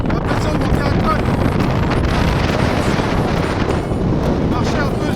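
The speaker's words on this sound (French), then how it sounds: "Le vent me stoppe." Loud, constant headwind roars and buffets the microphone during a bicycle ride, without a break, a heavy rumbling gust that never lets up.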